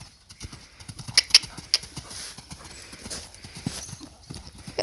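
Hooves of a horse under a rider in a training session clip-clop in a steady, close rhythm, with a few small jingles of tack and quiet breathing.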